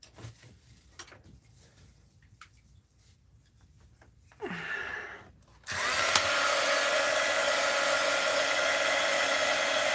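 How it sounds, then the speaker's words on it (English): A heat gun is used to soften glue on paper bag journal pages. After quiet handling noises and a brief whir, it switches on into a loud, steady blowing roar that continues to the end. "Let's use the heat gun on it and see if I can"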